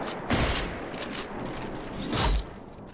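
Gunfire from a newly acquired gun in Destiny 2, two heavy bursts of shots about two seconds apart, loud and close over a busy game soundscape with no talking.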